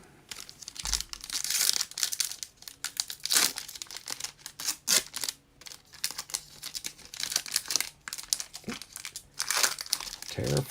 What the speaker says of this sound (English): Foil tear.